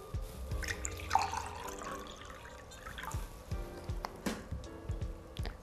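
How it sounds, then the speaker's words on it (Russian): Water is poured into a drinking glass for a homemade vinegar dish-soap mix, a close, light splashing and trickling with small drips that runs for several seconds at moderate volume, with no voices. "Заливаю воду."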